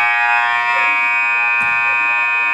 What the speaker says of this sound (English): And we head to the halftime buzzer.